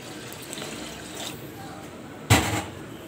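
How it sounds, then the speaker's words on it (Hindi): Water poured into a wok (kadhai) on the stove to boil macaroni, a short close splash and pour near the end over quiet background noise. "आधी कढ़ाई जो है हमने पानी से भर दी है।"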